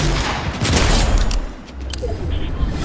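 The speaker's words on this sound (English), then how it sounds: "someone's shooting behind me again" Rapid gunfire bursts crackle from behind the player in a shooter video game, loud overlapping volleys that ease off briefly before another round of shots, with no talking.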